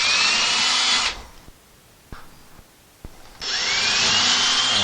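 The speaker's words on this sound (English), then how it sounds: "we're going to pre-drill these" A power drill whirs loudly, pre-drilling holes for a bathroom mirror, stops for a couple of seconds with a few small clicks and taps, then starts up again.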